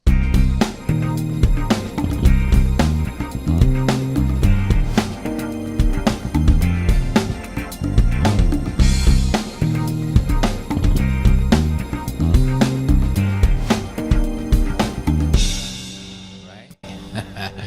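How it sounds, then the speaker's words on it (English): A thick, sustained synth pad swells beneath a steady beat and bass, filling the mix continuously before cutting out near the end. "Some of that pad you heard before, I just fattened it up a little bit"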